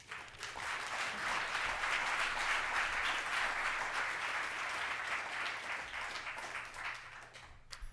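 An audience applauding to welcome Congressman Adam Smith at a nuclear weapons policy event, steady sustained clapping from a moderate crowd that swells and then gradually thins out.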